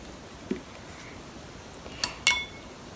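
A utensil stirs bath bomb mix in a bowl, giving a few faint, sparse clinks and scrapes against the bowl over a quiet background.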